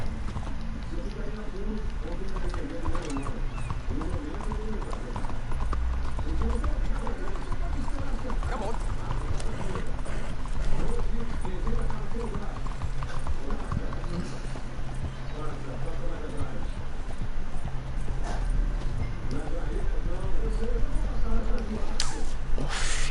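Horse hooves clip-clopping at a run while riding in the open-world game Red Dead Redemption 2, a steady galloping patter under continuous game ambience and occasional voice.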